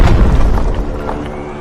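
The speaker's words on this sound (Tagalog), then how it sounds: "Pumutok na naman yung bulkan." A heavy, deep boom from an erupting volcano, staged as an audio drama effect: a loud low rumble at the start that fades slowly over a second and a half, with no voices.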